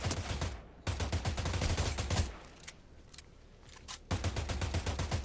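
Rapid bursts of gunfire in Fortnite Zero Build, Chapter 7 Season 1, fired at a tree: loud repeated shots in tight volleys, a quieter stretch of scattered shots, then another fast burst.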